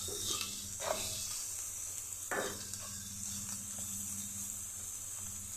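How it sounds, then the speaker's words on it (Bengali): A spice paste with a little water and salt fries in a pan, giving a steady close sizzle and hiss with a few soft stirring scrapes and no voices. "আমি একটু জল দিয়ে এটা একটু মশলাটা একটু ভেজে নেব"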